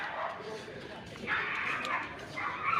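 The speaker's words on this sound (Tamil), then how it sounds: "நாய் வேறு அங்கேருந்து அப்பப்போ கூடிடுறாங்க. எவனாவது ஒருத்தன் குலைச்சா எல்லாரும் வந்துடுறாங்க." Dogs bark from some distance in a town on a trip from Tamil Nadu to Manali, with faint yips and woofs surfacing briefly over a soft background and nearby voices.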